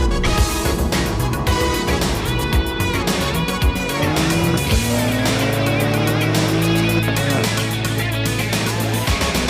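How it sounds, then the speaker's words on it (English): A 2021 BMW M4 Competition accelerating hard under launch control, its engine note climbing through rising sweeps with gear changes, loud and close from inside the car, with brief tire noise and no talk. "'21 BMW M4 Competition with launch control."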